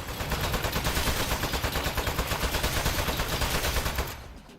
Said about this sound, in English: Wow, the gun is kind of loud, and there's no real adjustment for it.